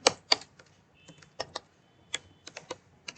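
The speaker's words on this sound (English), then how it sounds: "type dot and start typing the name of the column that you want to select" Close, crisp keystrokes on a computer keyboard, a dozen or so irregularly spaced clicks with brief pauses between bursts, alone without talk.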